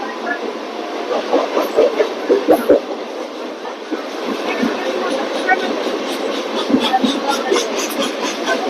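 DMU 74991 travelling between Ambala Cantt and Dolatpur Chowk, a steady rumbling roar heard from on board with rhythmic wheel clatter and thumps over rail joints, under someone speaking.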